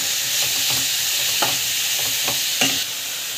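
Green chili and carrot sautéing with spices in a pan, a steady broadband sizzle with a few sharp stirring scrapes or taps spaced through it, close and moderately loud, no talking.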